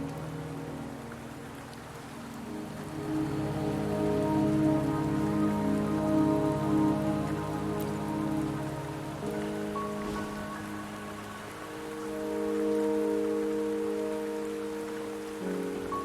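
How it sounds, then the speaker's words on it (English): Steady rain falls in the video game Wuthering Waves on a mountain route, a dense, even hiss of drops with a low rumbling ambience beneath it and no voices. "Don't worry, the rain won't last much longer."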